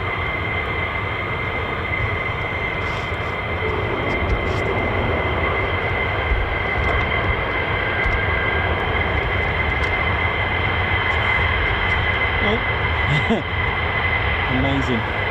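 F-15 fighter jets fly at RAF Lakenheath, home of the US Air Force 48th Fighter Wing, producing a continuous heavy roar that holds steady throughout, with faint voices in the background.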